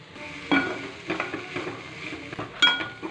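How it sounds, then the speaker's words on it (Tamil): Capsicum and beans poriyal frying in a pan, with a spatula scraping and clinking against the metal in a few sharp strokes over a low, steady sizzle. No one speaks. "திறந்தே வச்சு நம்ம கலர் விட்டுட்டு நல்லா ஃப்ரை ஆனதுக்கப்புறம் எடுத்துக்கலாம்"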